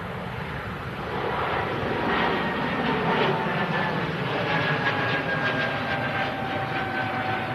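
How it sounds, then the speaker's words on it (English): An Air France Airbus A220 jet with Pratt & Whitney geared turbofan engines passes overhead, a broad engine roar that swells and holds, with a faint high whine, no voices. "Oh, an Air France A220."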